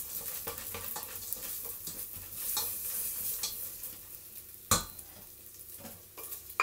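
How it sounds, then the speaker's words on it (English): Bacon cooks in a pan until crispy, with a continuous crackling sizzle and utensil scrapes and one sharp clatter partway through, heard alone without voices. "Bacon is now actually cooked"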